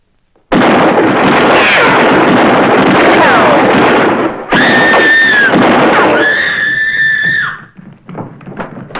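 Gunfire in a 1959 science-fiction film, a loud, sustained burst of blasts and roaring discharge that runs for several seconds, then gives way to a ringing, whistling tone before fading into quiet.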